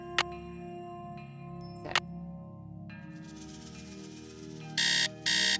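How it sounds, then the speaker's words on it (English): An in-game alarm clock in Nancy Drew: Secret of the Scarlet Hand gives two short, bright electronic beep bursts near the end. Before that come soft game chimes and a low ambient hum. "Alarm."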